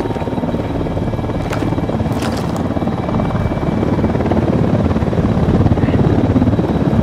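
A helicopter in the video game Ghost Recon Wildlands flies nearby with a loud, steady rhythmic rotor thump that grows slightly stronger toward the end.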